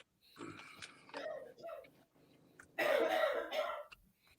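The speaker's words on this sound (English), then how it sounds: "Somebody's a bit of a cough going on there." A harsh cough bursts out loudly after a stretch of quieter talking and throat noises, close to the listener.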